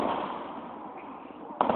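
Fireworks burst at a harvest festival, giving a sustained crackling hiss that ends in a sharper bang, heard close by outdoors.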